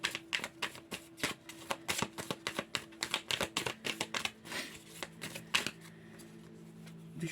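Tarot cards are shuffled by hand up close, a quick run of crisp riffling flicks that slows and thins toward the end, quiet and with no voices.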